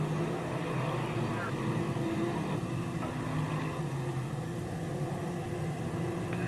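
Dirt modified race cars roar around a five-eighths-style dirt speedway in a steady, distant engine drone with crowd rumble, heard from the stands without clear nearby passes.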